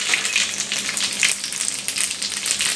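Fennel and cumin seeds crackle and sizzle in hot cooking oil in a pan, a steady close frying hiss with sharp popping bursts throughout.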